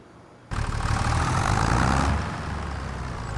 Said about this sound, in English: this tractor's loud, I think